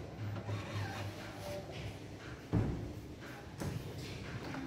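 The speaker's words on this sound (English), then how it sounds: "after oning my printer started head cleaning" An Epson L1800 DTF printer running white ink powers on and starts its head-cleaning cycle: a steady low mechanical hum, with a sharp thud near the middle and a softer clunk a second later.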